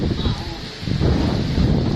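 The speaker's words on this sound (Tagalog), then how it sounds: "malakas ang hangin" Strong wind in Calbayog City, Samar, Philippines buffets the microphone in a steady low roar, with gusty rumbling that swells and rises in the second half.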